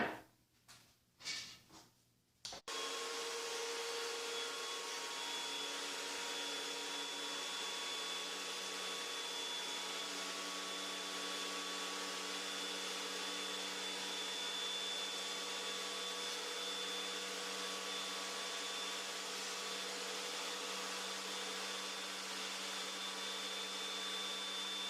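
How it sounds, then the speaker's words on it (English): A jointer planes the flat faces of wooden boards, a steady, loud machine whine with a strong tonal hum that runs unbroken for over twenty seconds after a few brief clunks at the start. "it's also a good idea to run these faces on the jointer to get a perfectly flat surface on both faces"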